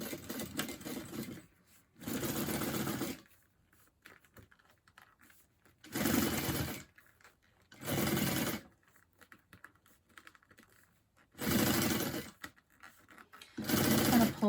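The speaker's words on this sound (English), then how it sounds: "Got a nice top stitching long stitch there" Sewing machine topstitching a vinyl bag with a long stitch, running in five or six short bursts of a few seconds each separated by quiet pauses, close and steady with no talking.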